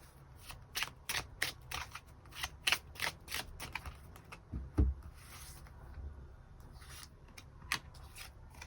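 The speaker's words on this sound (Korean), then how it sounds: "추가 카드 뽑아보도록 하겠습니다" Tarot cards shuffled by hand at close range, a rapid run of crisp riffling bursts with brief pauses between them and a soft thump partway through.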